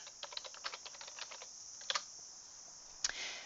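Someone types on a computer keyboard to enter spreadsheet values: a run of quick, light key taps, then a couple of louder isolated keystrokes, close and quiet.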